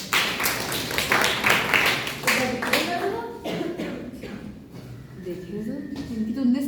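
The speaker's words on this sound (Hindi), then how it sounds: "सत्यम जी के लिए ताली" Classroom of students clapping for a classmate named Satyam: a burst of brisk, close clapping in the first few seconds that fades out as talking takes over.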